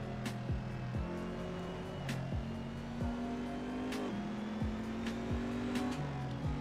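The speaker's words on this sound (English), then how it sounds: "That Ferrari sounds great." A Ferrari race car engine in the racing game Assetto Corsa revs through rapid upshifts, its tone climbing and dropping repeatedly, with sharp shift cracks between gears at moderate loudness.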